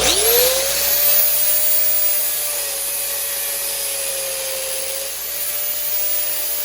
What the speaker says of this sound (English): If I can grind a slot down the middle of that.